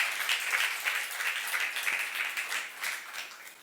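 Congregation applauding inside a church during a Korean Saturday worship service, a steady wash of many hands clapping at moderate volume with no clear rhythm, continuing evenly throughout.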